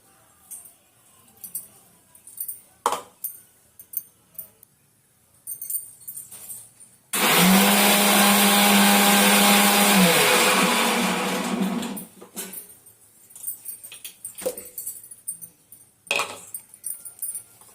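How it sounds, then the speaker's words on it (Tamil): A kitchen mixer grinder roars for about five seconds, coarsely grinding coconut, green chilies, garlic and cumin, with clinks and handling noises from the jar before and after the burst. "இதை வந்து நம்ம குறைப்பா மிக்சியில் போய் அரைச்சிட்டு வந்துடலாம்"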